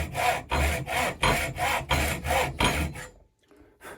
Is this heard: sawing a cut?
yes